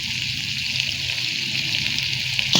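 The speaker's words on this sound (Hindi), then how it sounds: "अब हम इसमें पानी डाल देते हैं।" Water pours steadily into a pot of whole urad and chana dal, a continuous close splashing gush with a brief louder slosh at the end.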